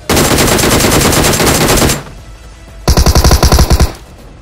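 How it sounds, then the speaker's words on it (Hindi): Loud, close automatic gunfire in the mobile battle royale game BGMI comes as a long sustained burst, then a short gap, then a second rapid burst of distinct heavy shots. "तभी मुझे सामने से गोलियां चलने की आवाज आती है।"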